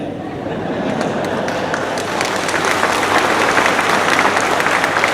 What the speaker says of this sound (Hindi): मैं चाहता था कि आपको तालियां मारना चाहिए।